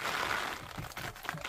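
Cutting through a water filter line during a filter replacement, a continuous close crunching and crinkling scrape lasting the whole moment, fairly loud.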